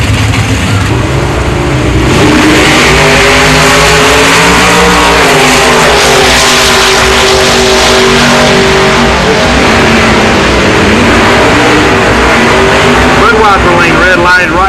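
Buick drag cars, including Stage 1 and Stage 2 engines, launch down a strip at a Buick GS Nationals race, a loud sustained roar of revving and accelerating engines with a commentator talking over it.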